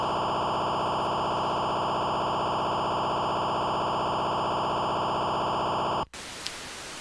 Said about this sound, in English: what you're hearing is the pairing of the phone